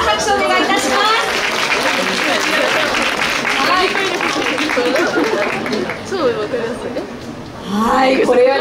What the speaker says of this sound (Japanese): 拍手お願いいたします。